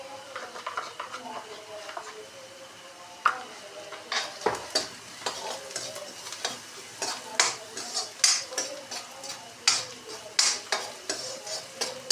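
Fried onions with salt and turmeric stirred in a pan for a besan bhurji, a spoon scraping and clinking at an irregular rhythm over a soft sizzle, close by.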